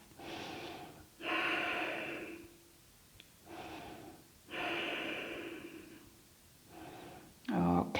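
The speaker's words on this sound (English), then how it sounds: "taking deep breaths here into your chest area" Slow, deep breaths in a calm yoga chest-opening pose, each long inhale and exhale close and clearly audible, repeating in an even rhythm with quiet pauses between them.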